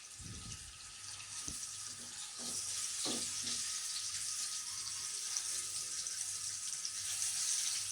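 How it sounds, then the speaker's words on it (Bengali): Eggs fry gently in oil, giving a steady hissing sizzle that swells slightly after a few early clatters of utensil strokes, close and fairly quiet. "আমরা ডিমগুলোকে হালকাভাবে ভেজে নিচ্ছি"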